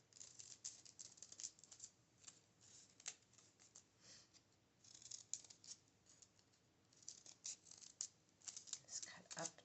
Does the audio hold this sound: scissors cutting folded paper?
yes